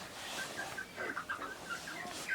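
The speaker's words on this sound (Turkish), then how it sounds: "Sepete civcivler girmiş arkadaşlar." Thin, high chirps repeat irregularly across the clip, like small chicks peeping close by in an egg basket, over a faint background hiss.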